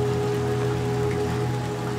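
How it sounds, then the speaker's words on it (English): Steady in-game rain from Little Nightmares 2 pours without a break over a low, droning hum with a couple of thin tonal lines. It sounds dense and even, with no voices. "It's again raining, damn it."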